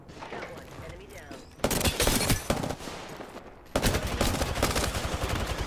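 Loud bursts of automatic gunfire in the Apex Legends Season 10 video game, two long sustained volleys of rapid shots following a quieter stretch of in-game ambience.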